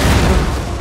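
Artillery fire pounds a general's position in a Napoleonic battle game at Ligny, a continuous deep rumbling barrage that stays loud and heavy throughout.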